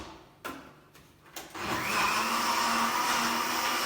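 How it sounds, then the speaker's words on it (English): A countertop blender whirs steadily as it purees an olive oil vinaigrette until smooth, starting after a few short knocks and then holding a loud, continuous motor drone to the end. "Blend that till it's completely smooth."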